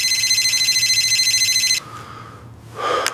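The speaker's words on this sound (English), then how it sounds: "The alarm rings." A loud electronic alarm rings in a steady pulsing trill for nearly two seconds, stops, then a brief burst of rustling and movement follows.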